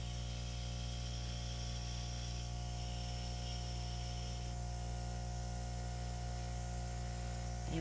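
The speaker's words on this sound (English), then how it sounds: "it's called a Master Airbrush. The compressor is just tiny and it blows 25 psi." A Master Airbrush driven by a tiny compressor at 25 psi sprays acrylic paint. It gives a steady, faint hiss over a constant low motor hum that runs the whole length, close by and without speech.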